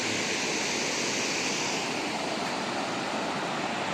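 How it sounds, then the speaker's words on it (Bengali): Loud, steady roar of a fast river current rushing beneath a bridge on a mountain road trip in Sikkim, a dense unbroken wash of water noise filling the whole stretch with no voices. "জলের স্রোত দেখছি,"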